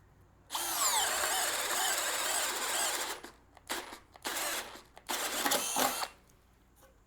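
Greenworks 24V brushless drill on speed 2 boring with a 3/4 inch Diablo Speed Demon self-feed spade bit: a loud, close whirring run of about two and a half seconds, then several shorter bursts that stutter as the bit bogs down.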